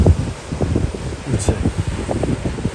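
Strong wind at a campsite in Greece buffets the microphone with gusty rumbling while a person talks over it.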